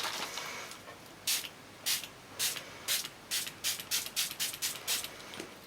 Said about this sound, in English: so I'm going to use my pink spray mist